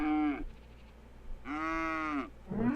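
A cow in the Black and White game gives two drawn-out, tonal moos separated by a short pause, a third starting at the end, loud and close with a faint voice beneath.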